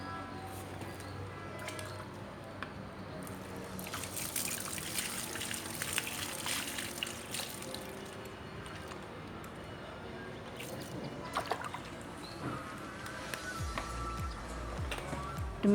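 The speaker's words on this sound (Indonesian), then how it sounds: "kemudian kita siram yang banyak." Water poured generously over freshly added soil covering chopped caladium tuber pieces planted with bamboo humus, a steady close trickling and splashing that runs for most of the stretch, with a heavier gush in the middle.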